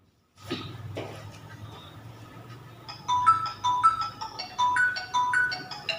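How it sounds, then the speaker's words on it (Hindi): A phone ringtone plays a repeating electronic melody, loud and close, after a few soft shuffling sounds. "आपका फोन बज रहा है"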